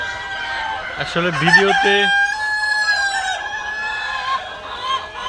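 Farm roosters and hens crow and cluck in a drawn-out, clear call, with a person talking briefly over part of it.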